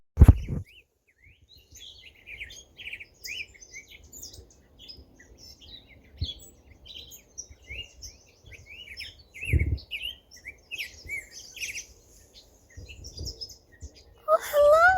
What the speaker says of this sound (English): Hearing these birds,